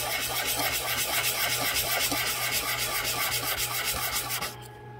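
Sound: sanding a 1:12 scale toaster kit part flat

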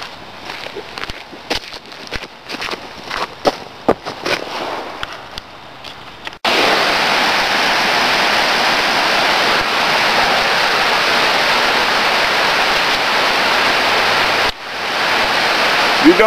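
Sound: waterfall

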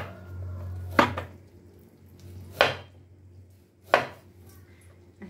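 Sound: chopping plantains diagonally with knife

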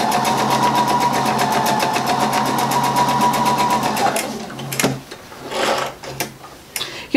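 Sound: sewing machine stitching quilt pieces

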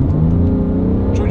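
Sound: BMW 5 Series F10 engine accelerating hard

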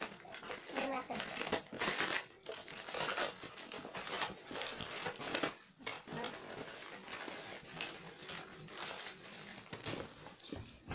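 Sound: opening a mailed package box, crinkling wrapping

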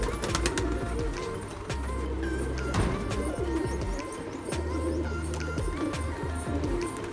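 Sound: pigeons cooing

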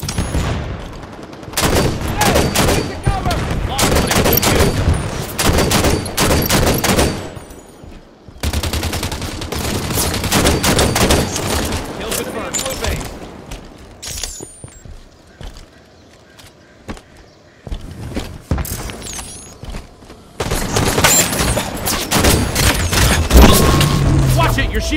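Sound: gunfire in the video game Halo 5

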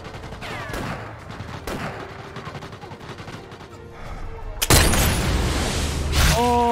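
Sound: gunfire in Sniper Elite VR video game

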